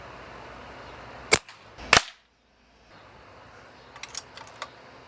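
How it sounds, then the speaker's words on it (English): Two sharp, loud air rifle shots from a regulated Beeman Raider fired at paper targets, about half a second apart, followed by a quiet pause and a few faint clicks and taps of handling. "I'm only shooting at the ones that I missed on the previous targets."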